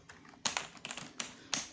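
Key presses on a Rexus BattleFire K9D semi-mechanical keyboard, with about five sharp, close clicks at irregular intervals against a quiet background.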